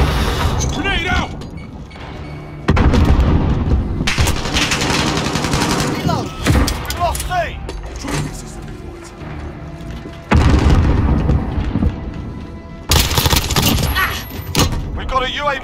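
Heavy booms and bursts of rapid gunfire from an online first-person shooter, with a grenade blast among them, loud and continuous over shouted voices and game chatter.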